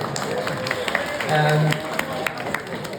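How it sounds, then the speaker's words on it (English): An audience at a Queenstown sheep farm demonstration claps for a young sheep's first shearing, a steady spread of hand claps with a low hum and some movement underneath. "Give him a round of applause."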